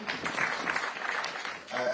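Audience applause at a Nairobi City County gathering, steady clapping mixed with talk over a loudspeaker, rising again near the end.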